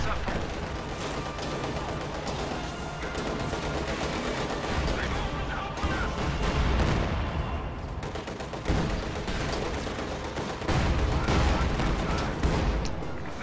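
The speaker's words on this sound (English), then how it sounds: "T-34 is firing on the Tier 4 structure over here on the right side." Cannon blasts from a T-34 tank shelling a structure in a tank strategy video game, a dense run of booming shots and rattling gunfire throughout, with a commentator talking over it.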